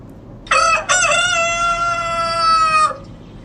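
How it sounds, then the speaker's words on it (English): A single loud rooster crow rings out from a recording near a smart chicken coop, a brief opening note then a long sustained call lasting about two seconds before cutting off, heard alone. "Rooster crowing."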